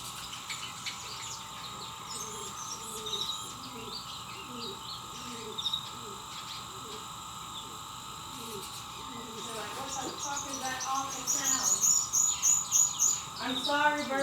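Pet bird chirping and cooing indoors, a steady run of short calls and tweets that grows busier and louder toward the end, with a person talking over it at times.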